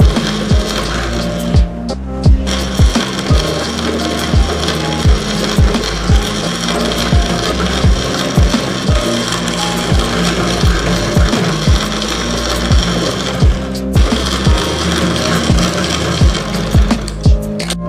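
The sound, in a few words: sewing machine stitching a salwar waistband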